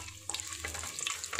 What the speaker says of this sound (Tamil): இப்போ நம்ம எடுத்து வச்சிருக்க பிரியாணி மசாலா எல்லாம் ஆட் பண்ணிக்கலாம் இதை ஒரு மிக்ஸ் பண்ணிக்கலாங்க